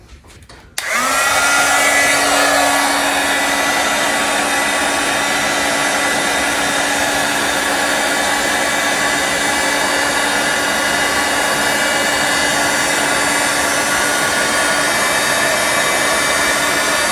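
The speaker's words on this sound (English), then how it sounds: "All right, let's try this heat gun." Heat gun blowing on resin: after a click it switches on into a loud, steady, close whooshing roar with a faint whine, running unbroken for about sixteen seconds with no speech.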